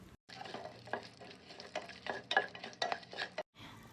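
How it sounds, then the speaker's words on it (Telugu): Biryani spices fry in hot oil and melted dalda, crackling and sizzling while a utensil stirs them in irregular scraping strokes, close and fairly quiet. "బిర్యానీకి కావాల్సిన మసాలాలు వేసుకోండి. వీటిని ఒక 5 నిమిషాల పాటు వేయించండి."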